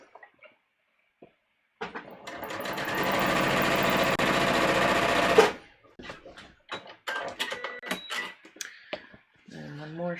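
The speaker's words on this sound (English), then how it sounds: "So let's just sew shoulder darts." A sewing machine stitches shoulder darts on a bodice in one steady, loud run of about four seconds. Afterward come clicks and handling noises, and a dog whimpers briefly near the end.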